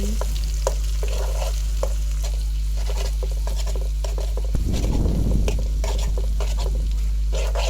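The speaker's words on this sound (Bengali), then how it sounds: "ডিমটা দিয়ে এখন আমি একটু ডিমটা ভেজে নিচ্ছি" Egg frying in a pan for egg noodles: a steady, close, dense sizzle with scattered light clicks and scrapes of a spatula, and a brief louder burst of crackling partway through.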